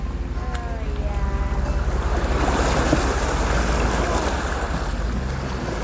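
Fast, deep floodwater rushes down a creek at a ferry crossing, making a steady, loud roar and broad wash with wind buffeting the microphone and no pauses.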